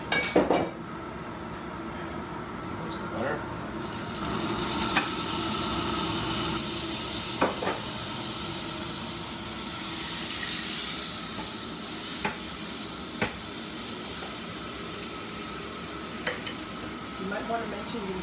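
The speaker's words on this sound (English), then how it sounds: "A little olive oil, and I put some butter in there so that it does not burn the butter." Butter and olive oil sizzle and hiss steadily in a pan, with occasional clicks and scrapes of a utensil over the continuous frying noise.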